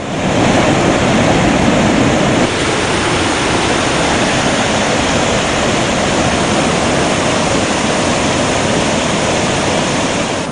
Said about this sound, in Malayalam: വെള്ളച്ചാട്ടത്തിന്റെ ഇരമ്പം കേൾക്കാം